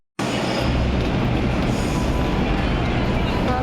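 A Delhi metro train runs along the track with a steady loud rumble and rolling wheel noise, continuous from just after the start to the end.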